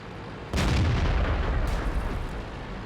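A tank shell strikes a tank's track in World of Tanks, a sudden loud blast that rolls into a long rumbling, crackling decay with a second fainter impact partway through.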